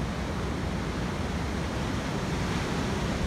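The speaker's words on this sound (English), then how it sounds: "Oh, my favorite things right now is huge waves." Huge ocean waves surge and break in a steady, loud broadband roar of surf, continuous through the whole stretch with no voices.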